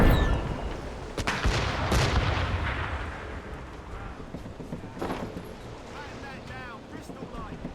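Ship cannons boom in an Assassin's Creed Rogue naval battle, one heavy blast near the start, then further loud reports over wind and sea, with crew shouting orders throughout.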